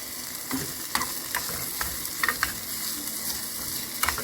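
Steady crackling sizzle of chicken wings frying in hot oil, with scattered sharper pops and spits throughout.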